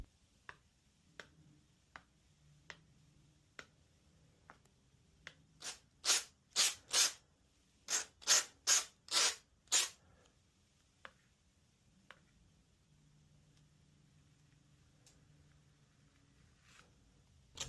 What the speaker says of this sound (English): Use your card to scrape it and neaten it off.